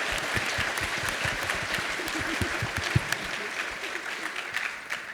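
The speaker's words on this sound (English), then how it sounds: "the audience gives our panellists a big round of applause" Audience applause for panellists at the close of a conference Q&A panel, a moderate crowd clapping steadily with distinct individual claps, fading slightly toward the end.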